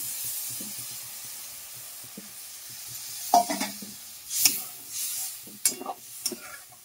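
Drumstick pieces hit hot oil in a pan for a steady close sizzle, with scattered scrapes and clinks of stirring and a few sharper bursts of spattering toward the end.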